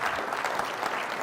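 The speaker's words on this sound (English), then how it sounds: "how about a round of applause" An audience claps steadily in a round of applause, a dense, even patter of many hands that holds at one level throughout with no voices standing out.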